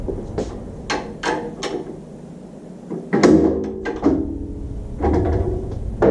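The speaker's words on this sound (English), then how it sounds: "let's screw this in. And then we'll tighten it down." Screws being driven in and tightened by hand while assembling a Delta 36-725T2 table saw, heard as a series of close, sharp ratcheting clicks and metallic scrapes in irregular bursts.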